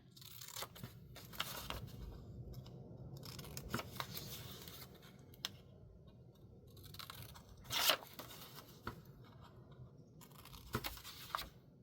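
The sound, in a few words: scissors trimming paper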